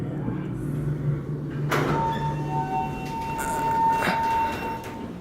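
A modded General Scenic hydraulic elevator at a St. Pete Beach, Florida resort runs with a continuous growling motor hum, steady pitched whine and occasional door or cab clunks.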